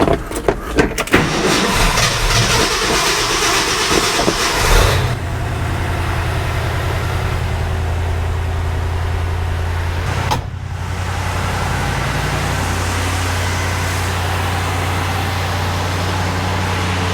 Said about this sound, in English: Let's fire up the truck and make sure that, that everything works.